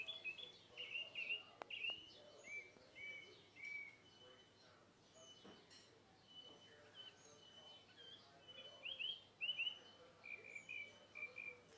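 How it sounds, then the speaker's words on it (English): Birds chirp and tweet outdoors in repeated short bright calls over a faint, steady chorus of insects, with soft distant ambient noise and no talking. "can you hear the bird? Can you hear all that?"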